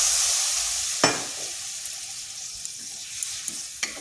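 Masala frying in oil in a wok for a Bengali egg dish, with water poured in: a sharp hissing burst, then a soft steady sizzle broken by a few small pops and one more burst near the end, no voices.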